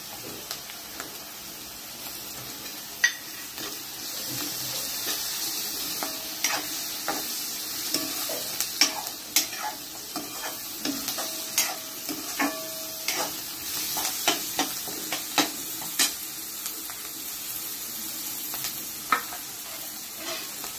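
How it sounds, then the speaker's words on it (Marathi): Ginger and garlic sizzle and fry in a pan for home-style pav bhaji, a steady close hiss with scattered crackles and stirring clinks running throughout. "हे बघा, आलं आणि लसूण आपण टाकायचं"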